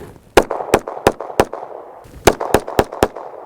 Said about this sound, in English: Federal HST 147 grain plus P with the stock Glock